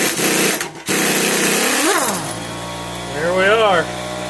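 An old half-inch drive Ingersoll Rand air impact wrench, run off a small compressor while working on a 1958 Cushman Eagle scooter, gives loud rattling bursts broken by a short pause, with vocal sounds rising over the noise.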